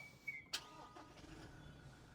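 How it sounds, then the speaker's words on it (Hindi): A Toyota Hilux engine starts with a short crank and a sharp catch, then settles into a quiet, low idle heard from close by. "तो स्टार्ट कर लेते हैं यार गाड़ी को।"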